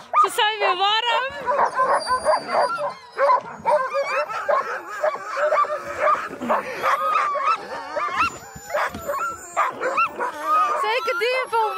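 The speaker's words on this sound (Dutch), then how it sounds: "De honden gaan helemaal los, hebben er zin in." Excited husky sled dogs bark, yip and whine in a dense, continuous chorus at close range, loud and overlapping, with people talking among them.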